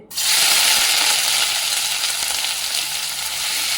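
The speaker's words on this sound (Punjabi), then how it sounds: "ਸਭ ਤੋਂ ਇਹਦੇ ਵਿੱਚ ਪਹਿਲਾਂ ਮੈਂ ਪਾਵਾਂਗੀ ਪਿਆਜ਼ ਪਿਆਜ਼ ਥੋੜੇ ਆਪਾਂ ਭੁੰਨਾਂਗੇ" Onions hit hot oil in a pan for an okra dish with gram flour and yogurt, bursting into a loud, bright, continuous sizzle that holds steady and close, easing slightly toward the end.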